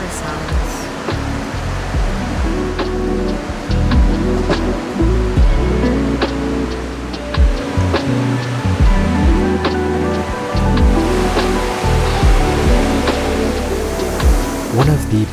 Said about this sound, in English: I love river sounds